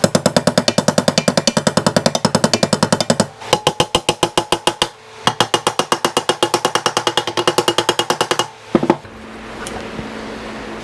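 A dented part from a 1979 Honda CB750K motorcycle is pounded with rapid, loud, metallic hammer blows in long rhythmic runs. The runs break off and restart, and a final few strikes give way to quieter shop noise.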